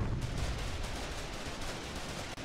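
Tank cannon fire in a military video game, a dense, loud roar of gunfire and explosive blasts filling the whole stretch with no one talking.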